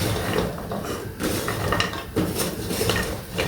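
A spoon stirs a thick sugar mixture in a pot for milk mandazi, scraping and clinking against the pan in irregular, close strokes with a gritty texture.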